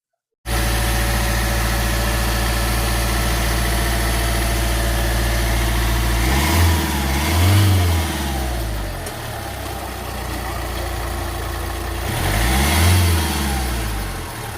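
A Hyundai Venue car engine turns over and settles into a steady idle, with two brief revs swelling the rumble partway through. The sound is close and continuous, with no talking.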